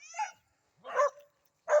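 Dog on a rural farm giving three short barks or yips with pauses between them, fairly close and sharp, with no talk over them.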